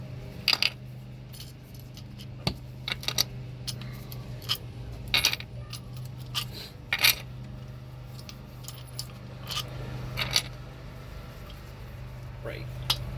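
Metal bolts clink and rattle in scattered, sharp bursts while being pulled out and handled during a diesel sending unit install on a Humvee, with a steady low hum underneath.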